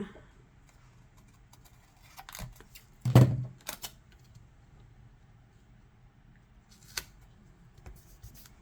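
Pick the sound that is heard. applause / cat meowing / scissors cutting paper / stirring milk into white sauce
scissors cutting paper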